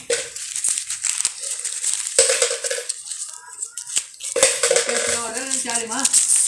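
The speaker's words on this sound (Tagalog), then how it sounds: "Bilangin natin kung magkano na yung barya mo eh." Coins clink and rattle as they are handled and counted, sharp metallic jingles in bursts close up, with brief voiced sounds between them.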